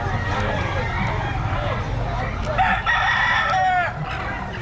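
Hens and chicks of a quality Filipino chicken flock cluck and chirp close by, with a rooster crowing at times, under steady background noise and people talking.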